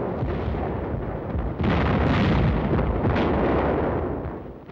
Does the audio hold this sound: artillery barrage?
yes